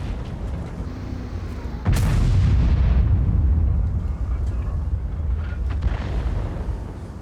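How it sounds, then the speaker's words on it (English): Artillery shells in World of Tanks land with a sudden heavy boom, followed by a rumbling explosion that trails off over several seconds amid battle noise. "these two are just going to get bombarded by artillery now for the whole game"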